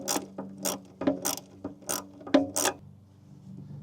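A ratchet wrench tightens the terminal clamps on a motorcycle battery, sounding as several close, sharp clicking bursts in uneven groups, followed by a faint trailing hum.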